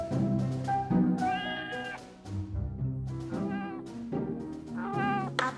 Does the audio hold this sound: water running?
no